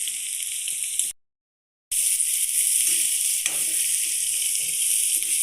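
Cumin seeds and black pepper sizzle in hot oil in a pan, a bright, steady frying hiss broken by one brief dropout to silence before resuming with faint scrapes of stirring.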